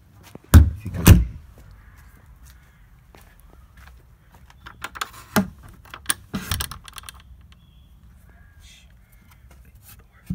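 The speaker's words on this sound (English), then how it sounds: "I'm just gonna close the door." An indoor door pushed shut during a game of hide and seek, with two loud close thumps early on, followed by scattered knocks, rustling and a few more bangs in a quiet room.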